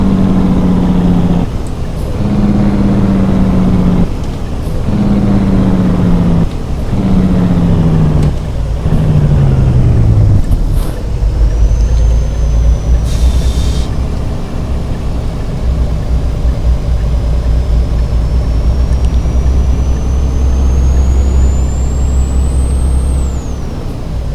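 Truck engine in Euro Truck Simulator 2, a steady low drone with air-brake hisses and gear-shift pitch drops early on, then a continuous loud rumble at slow countryside speed.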